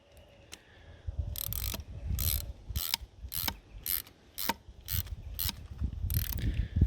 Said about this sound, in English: Then we tighten them, right? Just using socket set for this.